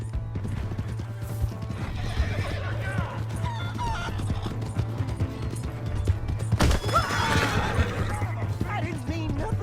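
In Red Dead Redemption 2, hooves clip-clop steadily while a horse whinnies loudly, with a sharp crash partway through over a low constant hum.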